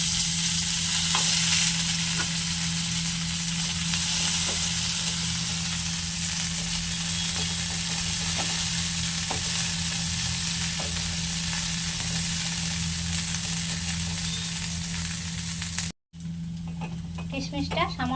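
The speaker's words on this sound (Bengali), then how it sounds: "এখন ঘিয়ের মধ্যে কিশমিশটা ভেজে নেব।" Chopped raisins fry in ghee in a wok with a continuous close sizzle and occasional light stirring ticks. It runs steadily for a long stretch, then drops out briefly near the end.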